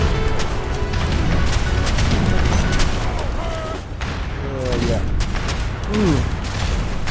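Cannon fire booms and crashes from a town center and ships in a naval battle in Age of Empires 3, a busy mix of blasts and impacts with a voice speaking over them.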